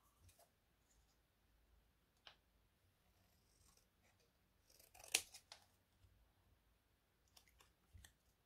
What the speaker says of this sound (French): J'essaye ciseaux.